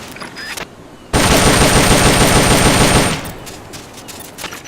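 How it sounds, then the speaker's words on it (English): An M16 assault rifle in the video game Metal Gear Solid Peace Walker lets off one loud, sustained burst of rapid automatic fire lasting about two seconds. Quieter background sound plays before and after, and no voice is heard. "The M16's a standard assault rifle,"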